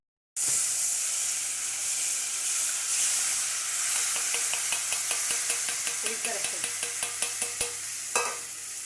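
Steady sizzling bubbling of a tamarind mixture in a pan with a hiss, joined midway by a series of evenly spaced light clicks or taps, ending with a louder scrape.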